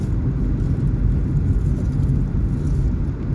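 Loud, continuous low rumble of buses and vans passing close by on the road, a steady engine drone without pauses.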